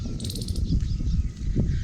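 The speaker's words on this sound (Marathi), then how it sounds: "पक्ष्यांचा किलबिलाट" Birds chirp and call across open farm fields in the early morning, a scattering of small bird voices over a steady low outdoor rumble with no one talking.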